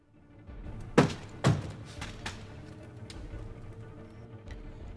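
Two sharp thunks land about half a second apart as a pair of house windows are suddenly thrown open in a Tibetan settlement, close and loud over a low background hum.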